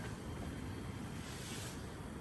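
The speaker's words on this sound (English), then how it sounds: "Still very, very windy out there." Steady, heavy wind rushing and buffeting outdoors at a campsite in central Oregon, a constant broadband roar with low rumbling gusts throughout.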